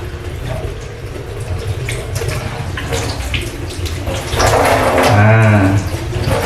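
Tap water runs steadily over beef tripe being rinsed, a close, continuous splashing that swells louder and fuller toward the end as the stream hits the tripe.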